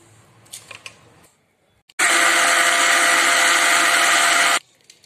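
Mixer grinder running loud and steady for about two and a half seconds while grinding ragi flour for dosa batter, starting abruptly and cutting off cleanly, after quiet kitchen handling noises.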